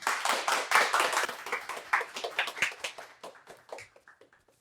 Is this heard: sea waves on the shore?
no